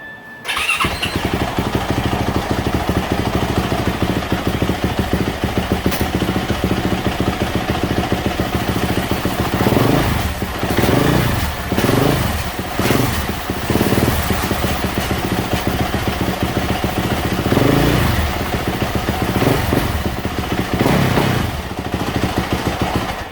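A 2021 Yamaha YZ450F motorcycle with a newly replaced clutch runs in gear as the clutch is let out. The engine roars loudly and steadily up close, with repeated revving swells throughout.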